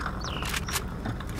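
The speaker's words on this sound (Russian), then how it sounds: "Перезарядка." A firearm is reloaded in the STALKER video game, a quick series of sharp metallic clicks and clacks over a steady ambient hum, lasting about a second.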